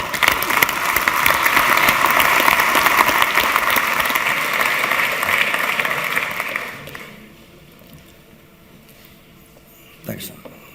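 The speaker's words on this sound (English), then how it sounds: "Let's give a big welcome to Georg Koffler with a warm round of applause." A conference audience gives a warm round of applause to welcome a speaker, loud steady clapping that fades out after about seven seconds, leaving a quiet room before a brief thump.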